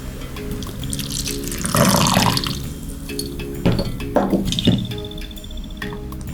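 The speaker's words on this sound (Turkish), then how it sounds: "ılık su. Suyu ben dökeceğim." Warm water is poured into a bowl while making poğaça pastry in a cooking video game, heard as a short splashy pour followed by a few dripping, clicking game effects; no voices.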